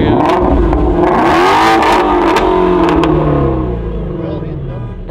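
A car with stock exhaust valves revs hard at a Cars and Coffee meet, a loud, close, rising engine roar that falls back and fades toward the end, with voices in the background.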